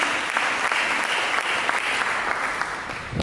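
A church congregation applauds steadily during a sermon, a dense wash of clapping that stays loud throughout.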